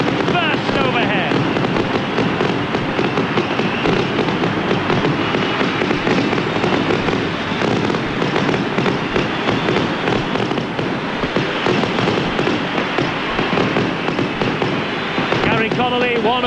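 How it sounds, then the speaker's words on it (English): Fireworks burst overhead at a rugby league ground before an international Test match, a dense, continuous crackling and popping barrage that stays loud throughout. "he looks determined as the fireworks burst overhead."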